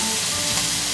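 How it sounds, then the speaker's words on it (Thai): Pork sizzles and fries loudly in a hot frying pan in a small dorm-style kitchen, a continuous close crackling hiss with no talking. "เราก็จะเอาหมูไปย่างก่อนนะ"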